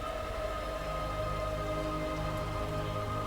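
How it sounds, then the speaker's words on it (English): Steady rainfall in the video game Detroit: Become Human, a soft continuous hiss of drops with a low hum beneath, even and unbroken throughout. "When the rain washes you clean, you'll know, Marcus."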